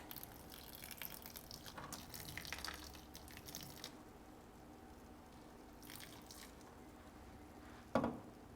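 Nutrient water poured onto a freshly repotted aroid plant, faint trickling and dripping into the soil over several seconds, ending in a brief sharper splash, close and quiet.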